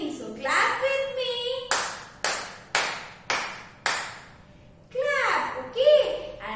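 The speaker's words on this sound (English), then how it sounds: "I am clapping. So clap with me." Hands clap five times in a slow, even rhythm during a children's class activity, sharp and close, with an adult voice speaking before and after the claps.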